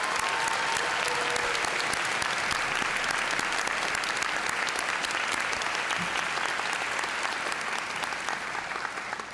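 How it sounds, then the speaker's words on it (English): Sustained applause from a large audience at a nursing school pinning ceremony, a dense, steady roar of many hands clapping that holds for several seconds and tapers slightly at the end. "Let's give them a round of applause."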